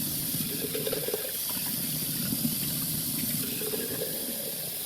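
Tap water runs steadily into a glass jar being rinsed of vinegar, a continuous close hiss and splash with no talking.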